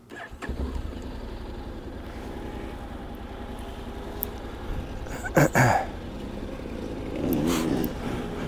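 Honda X-ADV 2022 motorcycle idling and pulling away in gravel mode, a steady low engine drone throughout with brief louder bursts near the middle and a rising rev toward the end.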